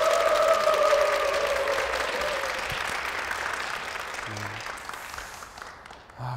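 A church congregation applauds in a broad, sustained wash of clapping that slowly fades over several seconds, with a faint voice near the end.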